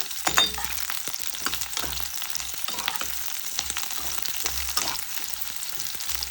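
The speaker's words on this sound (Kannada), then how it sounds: "ಈಗ ಬೆಳ್ಳುಳ್ಳಿನ ಹಾಕ್ಕೊಳ್ಳೋಣ. ಇದು ಒಂದು 2 ಮಿನಿಟ್ಸ್ ಫ್ರೈ ಮಾಡ್ಕೊಳ್ಳೋಣ." Chopped garlic frying in oil in a pan for ridge gourd chutney gives a continuous crackling sizzle with soft, regular low thumps of stirring throughout.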